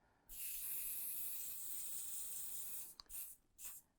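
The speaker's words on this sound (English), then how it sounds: "I'm just going to do the final hit with my hairspray or the sort of steamer." Hairspray is misted over a sugar magnolia flower made for cake decorating, a near, steady hiss lasting a few seconds, then a click and a short final burst.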